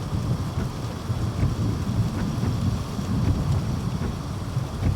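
Heavy rain pours steadily on a chilly August evening, a dense hiss broken by low, rolling rumbles of thunder.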